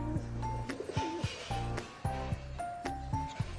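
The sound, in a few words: pigeon cooing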